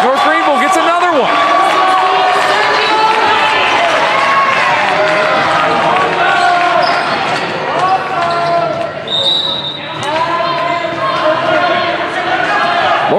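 A crowd cheers and shouts at a North Greenville vs. Mount Olive men's college volleyball match, a loud sustained roar with ball bounces and shoe squeaks, under a commentator's voice.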